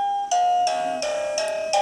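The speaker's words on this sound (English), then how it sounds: "there are 16 type of doorbell available." A video door phone's indoor monitor plays one of its doorbell ringtones, a bright ding-dong style electronic chime repeating several times in quick succession, near and loud with no voices.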